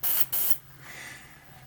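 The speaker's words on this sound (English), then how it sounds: "by pulling back on the trigger, you can release the air" An empty airbrush, no paint loaded, releasing air in two short loud hissing bursts, followed by a fainter steady hiss.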